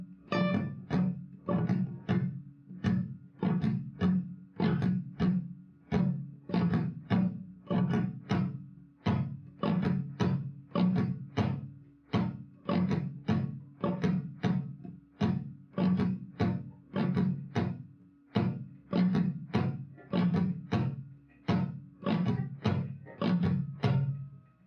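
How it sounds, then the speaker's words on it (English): Palm-muted acoustic guitar strumming the pattern from a song, with the strings held by the palm so each stroke lands as a dull, percussive thunk in a steady repeating rhythm, close and fairly quiet. "you can just hold the strings like this and hold your palm"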